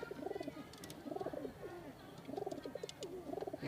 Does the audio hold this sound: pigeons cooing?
yes